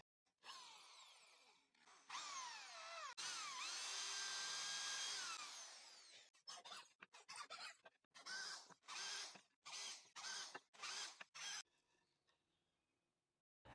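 A handheld power drill with a 2.5 mm bit and a 10 mm countersink bores holes into wood, whining up in long sustained runs and then in a string of short separate bursts that stop and restart, close and fairly loud, with no talking.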